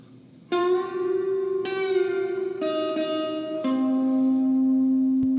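Phrase two of a song is played on guitar as a few clean, ringing notes, each sustaining before the next is plucked, close and clear with no talking.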